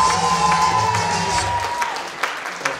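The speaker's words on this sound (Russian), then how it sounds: "аплодисменты" An audience at a stage show breaks into steady applause with cheering and some shouting voices mixed in, fading off toward the end as a few scattered claps remain.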